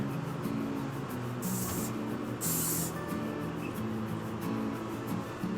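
Kenra Super Hold Finishing hairspray is sprayed from an aerosol can in two short, close bursts of sharp hiss over a quiet, low background hum.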